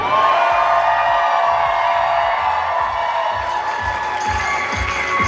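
Wedding guests cheering loudly for newlyweds at a reception, a sustained roar of whoops and shouts from a packed crowd, with some clapping rising near the end.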